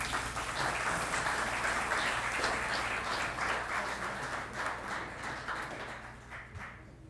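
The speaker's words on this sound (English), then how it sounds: "Please, another round of applause for Irina." A conference audience at the Hermes Expo 2026 applauds speaker Irina with a dense, sustained wash of clapping from many hands that fades gradually near the end, with no talk.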